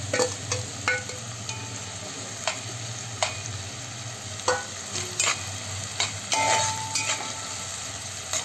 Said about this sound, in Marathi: कांदा आता छान परतायचा आहे ना आपल्याला